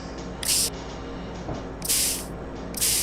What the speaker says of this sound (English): now We are just spraying with the acid to clean the remaining parts